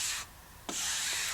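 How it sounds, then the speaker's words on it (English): A scraper drags across dried filler compound on a plasterboard wall in two short, raspy strokes, close and fairly quiet, with a brief pause between them. "We're just going to give that a scrape again just to get it nice and flat"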